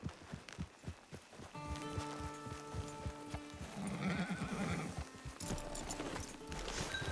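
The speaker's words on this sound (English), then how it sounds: "Get your horse." Horse neighs and hooves clip-clop in Red Dead Redemption 2, with steady walking hoofbeats early on, then a drawn-out whinny and snorting over continuous game ambience.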